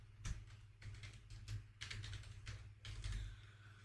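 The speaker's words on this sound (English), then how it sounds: "I'm typing something." Soft, fairly close typing on a computer keyboard: irregular bursts of quick key clicks with brief pauses between them, heard alone at low volume.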